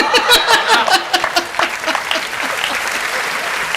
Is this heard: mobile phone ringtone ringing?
no